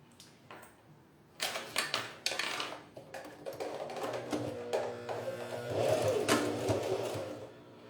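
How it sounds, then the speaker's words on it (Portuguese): A sewing machine stitches along the edge of a phone-case lining in short bursts, a rapid mechanical whirring and clatter that starts and stops several times, nearby and moderately loud, with no talking. "E aí eu vou costurar bem na beiradinha pra fechar o meu forro."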